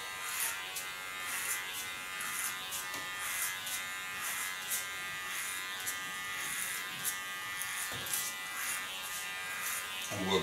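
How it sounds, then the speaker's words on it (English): Electric hair clipper buzzing steadily near the head during a family haircut, a continuous high whine with small bursts as it moves through hair, while people talk lightly in the background. "And my cute clipper."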